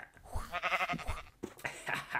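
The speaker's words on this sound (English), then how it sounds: "let's hit the sheep" A sheep in a live-action Minecraft parody animation gives a couple of short, wavering bleats, close and fairly loud, one after another.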